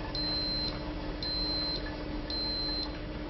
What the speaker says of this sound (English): When the brewing cycle is completed, 5 beeps will sound.